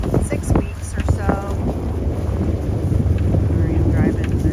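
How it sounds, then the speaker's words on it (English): Strong wind buffets the microphone of a vehicle driving over a rutted farm track, a loud continuous rumble throughout with a few brief voice-like sounds near the start. "It's really windy."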